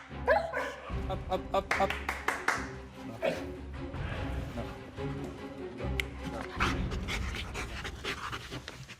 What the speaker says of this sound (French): une femelle berger allemand au flair imbattable